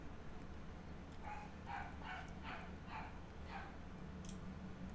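Dog barking in the background: six or so quick, fairly faint barks in a steady run, heard behind continuous room noise.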